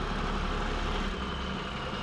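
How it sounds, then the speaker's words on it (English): A manure delivery truck from a mulch supplier rumbles steadily as it arrives, a low idling engine drone heard at moderate distance with no talk. "I hear the truck from Mulch More."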